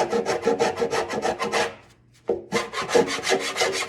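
A half round file rasps along the wooden sides of a guitar at the waist, fairing them before binding goes on: close, loud, rhythmic strokes in quick bursts, a short pause, then another run of strokes.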